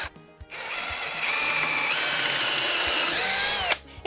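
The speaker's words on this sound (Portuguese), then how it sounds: "Tentem manter a parafusadora o mais direita possível para que a nossa furação não fique" A cordless screwdriver drills holes in wood while building a shoe rack, its motor whining loud and steady for about three seconds after a brief start, then winding down.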